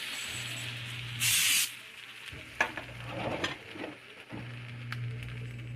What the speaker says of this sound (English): So I'm just going to spray it with oil.